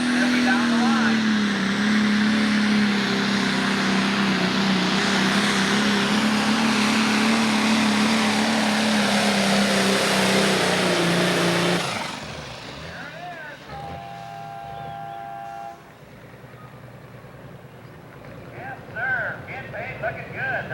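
A 10,000-pound Pro Stock pulling tractor roars loud and steady through a full pull at a 1995 Crown Point, Indiana tractor pull, then the engine drops away abruptly and fainter idling and crowd noise follow, with an announcer talking over it.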